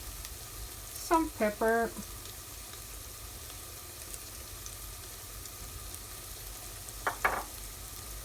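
Seitan mince sautéing in a pan, a faint steady sizzle that runs throughout beneath a few short bursts of speech.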